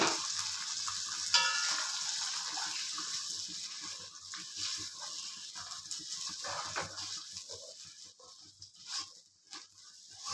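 Ginger, green chilli and mustard seed mixture for ginger tamarind pickle bubbling and sizzling in a pan, a steady close crackle with a few brief stirring scrapes and no talk.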